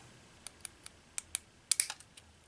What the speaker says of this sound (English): Snip all the way to this area on this side.